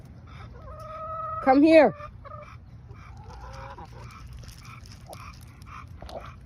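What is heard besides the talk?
chickens clucking on a homestead farm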